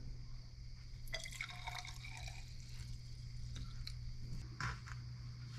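Two-cycle, 94-octane, ethanol-free fuel is poured into the fuel tank of a hot bulb horizontal mill engine, giving soft trickling and dripping sounds over a steady low hum, with a few sharper splashes.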